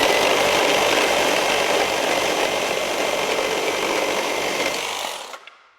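A Milwaukee Super Sawzall and a Makita XGT 40V reciprocating saw cutting together, a loud close continuous buzzing roar that holds steady for about five seconds, then cuts off abruptly as the blade breaks through.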